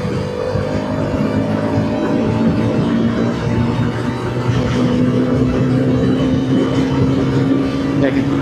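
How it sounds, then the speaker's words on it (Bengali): A Hero Karizma XMR 210 motorcycle engine hums steadily after a downshift into fifth gear, a continuous close ride drone with road and wind noise and a slight rise in level partway through. "তো আমি একটা গিয়ার ড্রপ করি 5-এ।"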